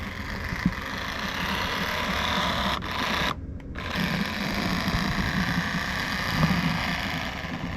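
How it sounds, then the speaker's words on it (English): A railway locomotive engine pulling away to be parked after uncoupling from a caboose, heard as a steady, loud diesel drone with a brief dropout partway through and no voices. "So CG will take that engine and go park it."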